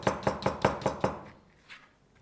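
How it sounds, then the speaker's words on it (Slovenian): Knife finely chopping chicken for a chicken stew on a board, six quick, even close chops in a row, then a faint stray tap as the cutting stops. "Treba je na tenko nasekljati."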